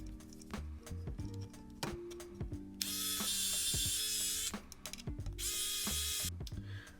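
Ratcheting screwdriver or small driver tightening the inner screws on a 5-inch Apex-style drone frame, with scattered close clicks and taps and two long, loud whirring runs, no talking.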